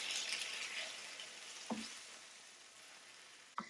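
A pound of ground lamb frying in a pan with browned onions for mughlai paratha, a bright hissing sizzle that gradually fades, broken by a couple of short knocks of the utensil; no one speaks.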